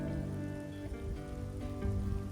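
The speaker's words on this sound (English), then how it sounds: "You can definitely hear the rain now." Steady rain patters on a surface, a soft continuous hiss with scattered drops, fairly quiet and without any voices.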